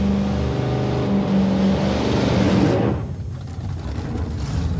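A 1967 Chevy Nova race car doing a burnout at a drag strip, its engine roaring loud and steady with a sustained howl before cutting off abruptly, leaving a quieter idling rumble.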